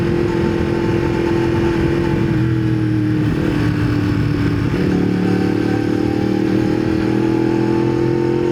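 A motorcycle engine runs at low revs while being ridden, a steady, loud, close-up drone with slight rises and dips in pitch and some wind noise.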